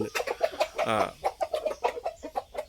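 A rooster clucks in short, quick bursts, close and fairly loud, with one longer throaty call in the middle.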